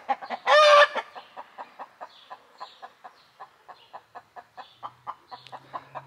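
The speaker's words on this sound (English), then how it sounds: "listen to the chickens sing" Chickens cluck in a steady rhythmic series of short calls, with a brief loud squawk near the start and a low hum toward the end.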